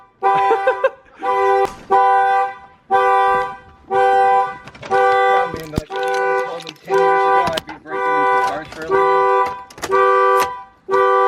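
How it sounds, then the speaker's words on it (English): A Nissan 350Z's car alarm blares in a repeating pattern of loud honking bursts, about one per second, with people talking briefly underneath. "do I make the alarm stop going off?"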